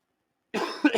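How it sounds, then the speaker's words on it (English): After a moment of silence, a person coughs close by, a short harsh burst followed by a second cough. "I'm sorry about the coughing, by the way, guys."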